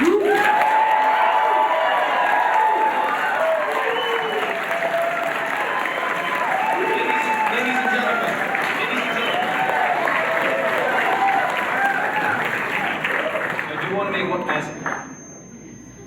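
Sustained audience applause at a county sheriff's candidate debate hosted by a taxpayers association, a dense crowd clapping loudly and steadily for about fourteen seconds before tapering off, with some cheering mixed in.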